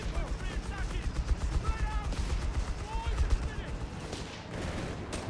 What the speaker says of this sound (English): It was the machine gun there, pushing it back.